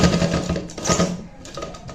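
A simple domestic sewing machine stitches a blouse to secure a hook and eye, running in a short, close burst of rapid mechanical chatter that pauses briefly before starting again.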